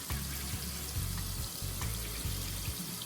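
Saltfish is rinsed under running tap water, a close, quiet splashing flow that pulses unevenly as the fish is moved under the stream, with no talking.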